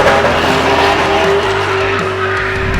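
A 1962 Volvo Amazon with an all-aluminum LS engine, a peaky former drag motor, accelerating hard. A loud, close engine roar climbs in pitch alongside screeching tire squeal, steady and intense throughout.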